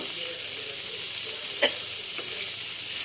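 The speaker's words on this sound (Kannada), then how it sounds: "ಇದೆಲ್ಲ ನೀಟಾಗಿ ಎಣ್ಣೆಯಲ್ಲಿ ಮಿಕ್ಸ್ ಮಾಡ್ಕೊತಾ ಇದ್ದೀನಿ" Paneer frying in oil on a thin tawa, a continuous hissing sizzle with a couple of sharp scrapes as it is stirred around the pan.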